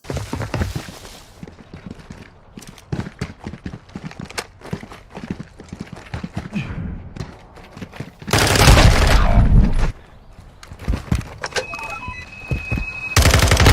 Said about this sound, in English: That's what your opponent hears when you activate Dead Silence